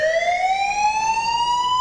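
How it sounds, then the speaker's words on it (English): A house burglar alarm sounds loud and close as a steady rising electronic tone, continuous and alone with no voices. "You can hear the alarm for 3 blocks away."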